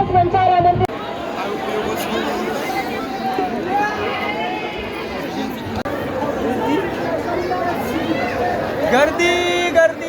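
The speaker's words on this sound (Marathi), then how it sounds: "गर्दी गर्दी गर्दी." A dense crowd chatters at the Ekvira Aai palkhi festival, a close continuous babble of many overlapping voices with occasional shouts.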